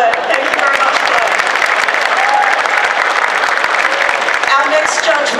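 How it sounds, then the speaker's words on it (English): Loud, sustained audience applause at a cosplay championship event, dense clapping close by with faint cheers or whistles mixed in, unbroken for the whole stretch. "Big round of applause for Fleur."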